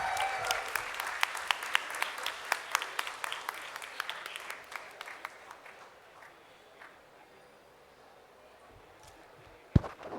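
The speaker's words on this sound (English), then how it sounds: "huge round of applause for healthcare" Participants and volunteers at a design, technology and social innovation workshop receive applause from an indoor audience: a burst of clapping with sharp individual claps that fades away gradually, followed by a single loud thump near the end.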